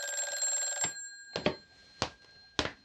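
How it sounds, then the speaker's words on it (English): An old telephone bell rings in a 1950s radio drama, one long ring cut off, then several short bursts of ringing in a sparse, staccato pattern, close and clear with no talk. "I'd better get that phone."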